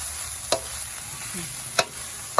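Field rat stir-fried with basil and aromatics in a pan over low heat, a soft steady sizzle with three sharp scrapes of a utensil against the pan, close and alone.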